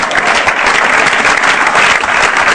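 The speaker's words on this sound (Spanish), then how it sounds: "Denle un aplauso al Señor." A church congregation bursts into loud, sustained applause for the Lord, a thick, even roar of many clapping hands close by, continuing without pause or speech.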